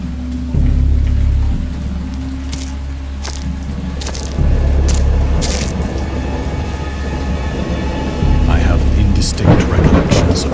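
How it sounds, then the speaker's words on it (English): A thunderstorm with rain in the Dagon cosmic horror visual novel game: deep thunder rolls surge repeatedly over a constant hiss of heavy rain, loud and close, ending in a sharper crackling burst. "I heard peals of thunder and other tones which nature utters only in her wildest moods"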